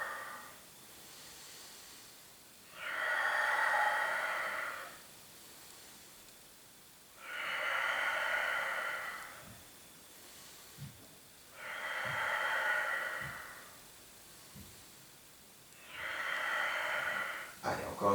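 A person breathing deeply during a Pilates exercise, with four long, airy breaths of about two seconds each at a slow, even rhythm, separated by quiet pauses holding faint thumps and movement noise.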